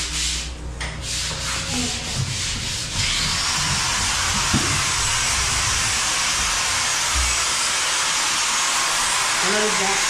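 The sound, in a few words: air blower cleaning a roof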